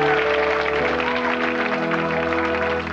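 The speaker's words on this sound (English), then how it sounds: "Give them a round of applause, Mel and Sue." Studio audience applause during a live morning television show, a dense, steady wash of clapping that holds evenly at close range for the whole stretch, with no voices over it.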